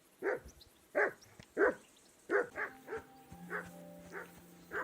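A dog in Kingdom Come: Deliverance II lets out a run of barks, some spaced and some in quick pairs, fairly close and distinct against a quiet backdrop with a soft low tone entering partway through.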